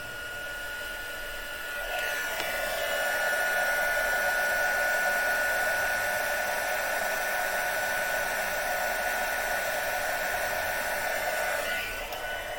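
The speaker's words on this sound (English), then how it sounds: "heat up my heat gun" A heat gun melting embossing powder on a handmade card blows with a steady, even whoosh for about ten seconds, switching on and off, close and fairly loud with no speech.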